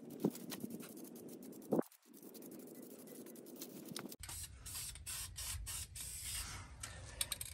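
An aerosol spray paint can hisses in several bursts, then continues in a longer sustained spray up close on a Ford F-150, with a brief rattle of the can between.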